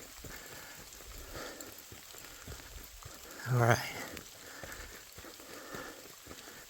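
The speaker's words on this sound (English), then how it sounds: "Cool rain feels good actually." Light rain patters steadily on surfaces outdoors, a soft continuous hiss with scattered drops, while someone says a word briefly partway through.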